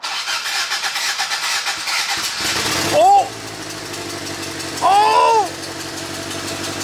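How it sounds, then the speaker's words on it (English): A Toyota MR2's engine cranks with rapid chugging, then catches and settles into a steady idle, close by and loud, while a person exclaims in surprise twice. "it's running! It started!"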